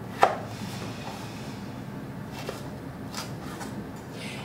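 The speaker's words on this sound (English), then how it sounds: "I'm gonna cut each half in half, and then I am going to slice out the core piece" A kitchen knife cuts pears into quarters and slices out the cores for a pear upside-down cake: one sharp, crisp cut near the start, then a few fainter taps on the board.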